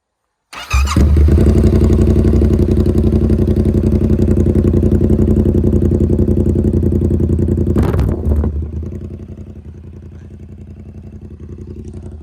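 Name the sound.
Yamaha R7 motorcycle engine starting and idling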